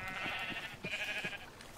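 Sheep in the Minecraft survival game give a few short nasal bleats in quick succession, fairly faint over a soft background hum.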